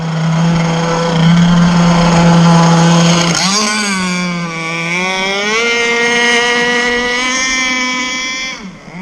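A Zenoah 30cc gas engine on an RC boat runs loud and steady with a buzzing two-stroke drone, then dips and climbs back up in pitch as the throttle changes, holding strong until a sudden cut at the end.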